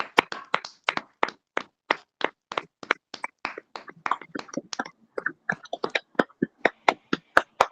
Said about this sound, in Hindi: ताली दे के प्रभु को धन्यवाद देते हैं आज के वचन के लिए।